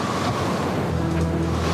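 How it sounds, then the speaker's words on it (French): Storm at sea in the Southern Ocean, with heavy surf and roaring wind of hurricane strength, snow and hail, a continuous loud wash of breaking waves and gusts with no voices. "combattant neige, grêle et vent, qui ont l'intensité d'un ouragan"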